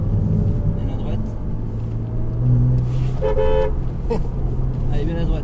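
Porsche Cayman S (295 hp) accelerating on a track, engine note rising and holding steady under a driving instructor's ongoing talk, with a brief horn-like toot in the middle.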